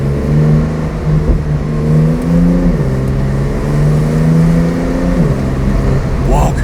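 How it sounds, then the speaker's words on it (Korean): A Porsche 911 Turbo S Cabriolet 992 with its exhaust valves open drives at around 3200 RPM, its loud, steady droning engine note shifting pitch twice as it revs, with a voice speaking over it. "여기서 제가 배기음을 오픈하고 달렸을 때 어느 정도가 나오는지를 들려드려야 되니까"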